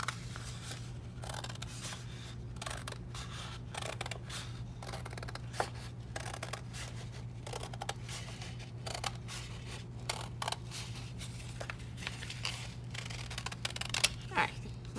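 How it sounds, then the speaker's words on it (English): Scissors snip through paper in a quick, steady run of small crisp cuts over a low constant hum. "Then I can take my scissors and I'm gonna go ahead and cut"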